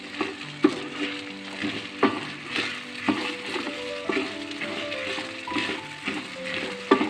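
A spoon scrapes and turns rice pilaf in a pot in a series of repeated stirring strokes about once a second over a soft sizzle, close and fairly quiet, with no talking.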